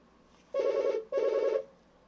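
A telephone rings in two loud, buzzing electronic bursts with a short gap between them, close by, in a quiet room with no talk.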